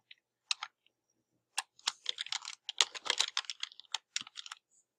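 Typing on a computer keyboard while renaming a Google Slides copy: close, crisp key clicks that start as scattered taps and then run into a quick, uneven burst before stopping.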